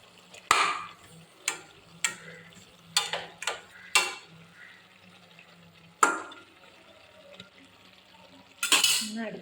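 A spoon stirs avial, a Kerala mixed-vegetable curry, in a cooking pot over a medium flame, making sharp scattered clinks and scrapes against the pot, several in quick succession and then sparser, close and alone.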